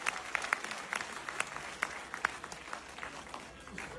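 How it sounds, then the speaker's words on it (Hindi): A community gathering's audience breaks into sustained applause, dense clapping with sharper individual claps standing out, moderately loud and steady throughout with no voices on top. "सभी लोगों के लिए एक बार जोरदार तालियां आप सबके लिए"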